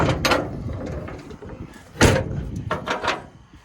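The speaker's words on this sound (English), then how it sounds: "Now if I can get the door shut." The door of an old grain truck is pulled shut with a few rattling metal knocks and then a solid thump, with creaks and clunks around it outdoors.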